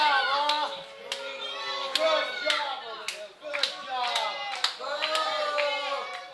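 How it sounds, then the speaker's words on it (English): Slow, deliberate sarcastic handclaps from a wrestler at a live wrestling show, spaced roughly every second and close by, running under continuous commentary. "the sardonic applause continuing here by Silas Young"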